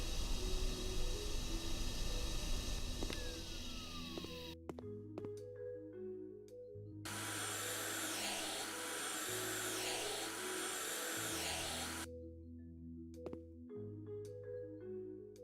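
Vacuum cleaner in the House Flipper video game, a steady broadband whooshing drone that drops out and restarts several times over music-like tonal background, fairly loud throughout.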